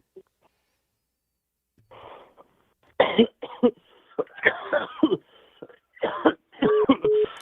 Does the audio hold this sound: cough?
yes